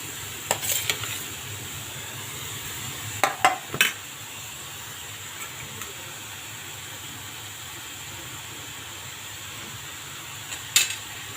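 Grated raw mango is tipped into a steel wok for a jaggery preserve, giving a few sharp metallic clinks and scrapes of the utensil against the pan at intervals over a low steady background, close and without talk.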